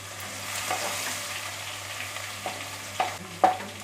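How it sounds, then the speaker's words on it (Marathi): Whole spices, dried and green chillies and garlic sizzle in hot oil as a tempering for dhaba-style chicken curry, with a soft steady fry and a few sharp stirring scrapes toward the end, close and without talk. "आणि आता ही फोडणी आहे ना ती थोडीशी परतून घ्यायची आहे."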